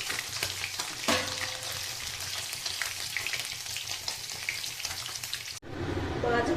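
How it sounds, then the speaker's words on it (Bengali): Vigorous crackling sizzle of eggplant frying in oil, continuous and close, briefly interrupted near the end before the sizzling resumes. "বেগুনটাকে আমি ভেজে দেবো এখন"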